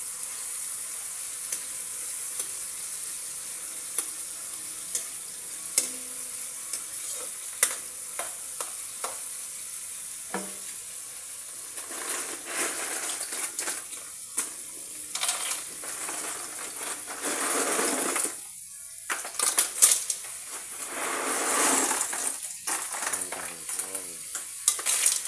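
Kangkong and tomato fry in a pan with a steady hiss and sizzle, broken by repeated scraping and clanking as a utensil stirs them, close-up and continuous for the whole stretch.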